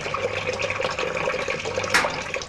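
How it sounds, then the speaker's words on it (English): Water gushes into a domestic washing machine through an electrically opened solenoid valve, a steady, fairly loud rushing hiss with a brief louder surge near the end and no talking. "The first thing that happens when you turn the machine on is that water gushes in, released by a sort of electric tap called a solenoid valve."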